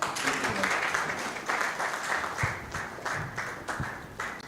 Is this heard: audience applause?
yes